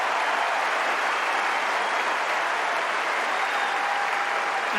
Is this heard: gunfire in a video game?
no